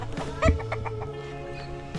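Backyard chickens kept on a rural province property cluck in short repeated bursts, close and clear, with a louder squawk near the start over a quiet outdoor background.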